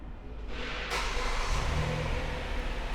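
A 2020 Hyundai Palisade Ultimate AWD with a 3.8-liter engine starts by remote start: a quiet lead-in, then a crank and a rising rev that settles into a steady idle rumble, with no talk.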